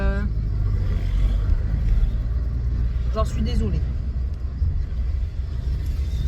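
Cabin of a moving car gives a steady low road rumble and engine drone, with someone speaking over it.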